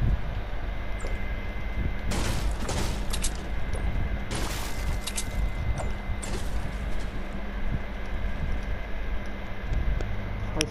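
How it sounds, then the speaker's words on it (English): Gunshots at a shooting gallery in a video game, several loud sharp bursts at intervals over a steady noisy background. "so we're gonna shoot at the bullseye"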